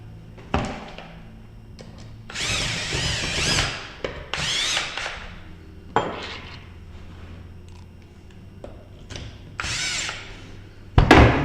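A power drill drives machine screws into a Better Home Products interconnect door lockset, several short close whirring bursts separated by pauses and small handling clicks, with no talk.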